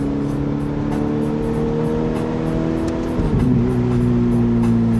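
A Ferrari 488 engine accelerating hard in second gear on a road, a loud steady rising drone with a slight dip and surge near the end as the revs climb, heard from inside the car.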